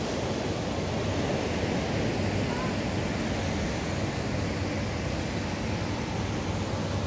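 Ocean waves wash steadily onto an urban beach in Cascais, Portugal, a constant broadband surf roar at moderate level with no speech over it.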